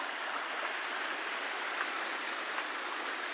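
Fast, clear river water rushing steadily on the way to Rajapani, a dense unbroken hiss and splash with no pauses, close and fairly loud, no voices.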